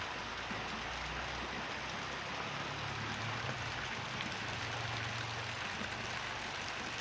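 Steady rain pours down on trees and greenery outside, a constant dense hiss with fine patter, close and even throughout, a faint low engine hum underneath.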